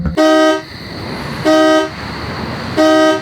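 A car horn honks three times in sustained blasts about a second apart, loud and close, over a low idling engine and road noise at night.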